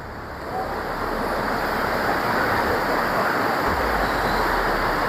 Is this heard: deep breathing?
no